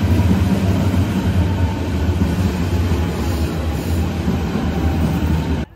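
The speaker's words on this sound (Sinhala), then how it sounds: "ඇත්තට මේක S-Bahn Straßenbahn." An S-Bahn commuter train runs on rails with a loud, steady rumble and rolling wheel noise, heard close from aboard or beside it, continuous until it cuts off abruptly at the end, with no speech.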